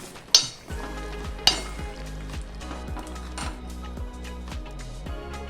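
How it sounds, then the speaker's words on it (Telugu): Cooked dal being mixed in a pan with a tempering of garlic cloves and curry leaves for purslane leaf and raw mango dal. Regular ladle strokes knock and clink against the metal about twice a second over a soft bubbling background. "ఇప్పుడు బాగా మిక్స్ చేసుకుందాము।"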